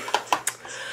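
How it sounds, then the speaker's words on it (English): A phone notification chime plays in a quiet room, three short bright tones in quick succession followed by a faint lingering tail. "Sorry if you guys heard that. That was my phone."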